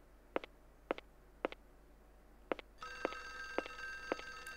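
A telephone rings inside the survival horror game Clock Tower for Windows 95: a few sharp, evenly spaced clicks or taps, then a loud, sustained electronic bell ring with pulsing strikes. No one talks.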